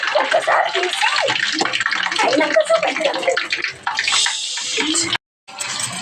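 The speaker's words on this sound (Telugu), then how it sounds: "మొత్తం డీప్ ఫ్రై కావాలి, ఇలా కలుపుకోవాలి" Bottle gourd vadas deep frying in hot oil, with a steady, loud broadband sizzle and crackle that runs almost throughout, plus a brief silent gap near the end; a person talks over it.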